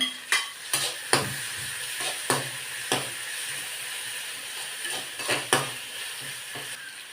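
Tomatoes fry in hot oil in a pan with a steady sizzle, broken by repeated scraping stirs that land as sharp bursts every second or so; close and moderately loud, with no talking.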